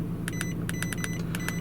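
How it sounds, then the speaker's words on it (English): Several short, high electronic beeps in quick pairs from button presses on an iCarsoft CR PRO car diagnostic scanner, close and clear over a low steady hum, with no voices. "There's a slight beep every time you press the button."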